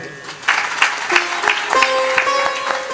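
Applause from an audience at a devotional katha gathering for the keyboard player, a short burst of clapping with some raised voices mixed in.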